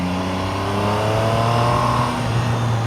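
A Triumph Tiger Sport 800 motorcycle engine accelerating on a fast road, a steady rising drone with clear harmonic tones shifting in pitch, continuous and close with wind rush beneath.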